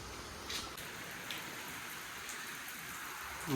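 Steady rain hissing evenly over farm fields, with occasional slightly heavier patters; constant and unbroken throughout.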